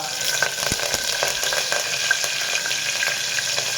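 Mustard seeds, cumin and curry leaves sizzle in hot oil for a khichdi tempering, a bright continuous hiss close up with scattered sharp pops and crackles.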